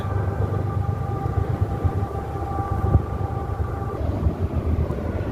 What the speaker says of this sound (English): There's the sound of the train.